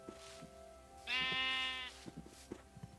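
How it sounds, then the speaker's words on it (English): A single bleating sheep in Minecraft, a nasal wavering call lasting under a second, with soft clicks and taps around it. "you can get gray sheep or you can get white sheep."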